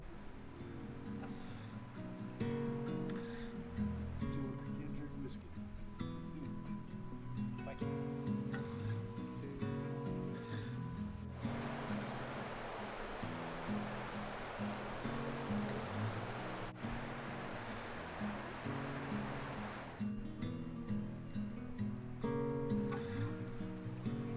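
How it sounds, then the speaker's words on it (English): Heavy rainstorm in the Idaho backcountry, a steady broadband wash of falling rain that swells to a dense, loud downpour midway, with low rumbling underneath and no talking. "But this is a full-on rainstorm."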